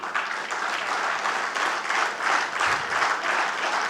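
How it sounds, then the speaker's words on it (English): An indoor audience at an industry panel event claps steadily and fairly loudly for several seconds to welcome speakers, a dense even wash of applause with no voices on top. "please welcome them with a big round of applause"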